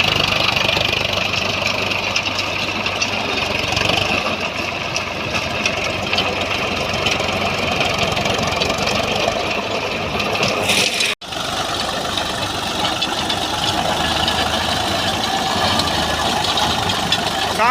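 A tractor engine runs with a rotavator in a farm field, a loud continuous rumbling drone with a brief dropout near the middle and faint voices underneath.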